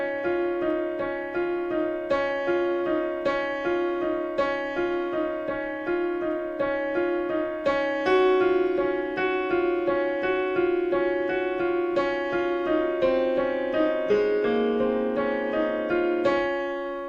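Solo piano plays the right-hand melody of a song, a steady run of clear single notes with sustained ringing tones, close and even in loudness with no talking.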